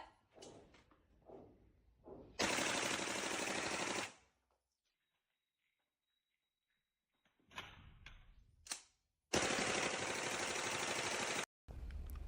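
Machine gun fired in two long sustained bursts, loud and close, with a near-silent pause between them, a short third burst at the end, and a few sharp single bangs and clatter around the firing.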